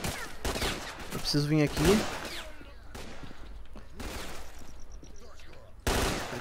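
Gunfire crackles in a S.T.A.L.K.E.R.: Clear Sky shootout, with bursts of automatic fire and sharp shots layered beneath someone talking over the action.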